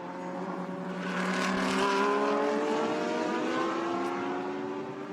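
Number 27 Hub Auto Corsa Ferrari GT3 race car lapping in qualifying at a Blancpain GT Series Asia round in Thailand, its engine note rising steadily and loudly with clear harmonics, a continuous high-revving roar swelling as it nears.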